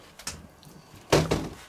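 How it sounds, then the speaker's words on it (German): A door right beside a grill is yanked open with a thudding clatter, a brief knock first and then a louder rattling swing; no voices heard. "reißt da die Tür neben mir auf"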